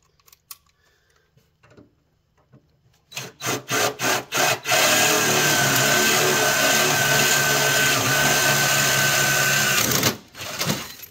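A drill bores a hole through a thick metal bracket on a damaged Cub Cadet bagger, opening with a few short bursts before a loud, continuous grinding run of about six seconds that stops abruptly and then briefly resumes.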